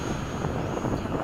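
Model F/A-18 jet with a real turbine engine roars past in flight, a loud broad whoosh with wind buffeting on the microphone.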